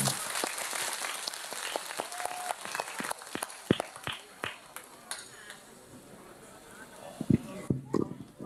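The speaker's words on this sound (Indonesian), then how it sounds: "Tepuk tangan untuk BTV." Scattered, uneven clapping at a religious gathering, with distinct individual claps under ongoing voices and crowd murmur rather than a solid wave of applause.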